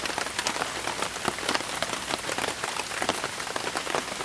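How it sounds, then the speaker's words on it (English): Heavy rain pours steadily onto a campsite in Uwharrie, a dense continuous hiss with scattered sharper drops pattering close by, no voices. "It's a lot of rain."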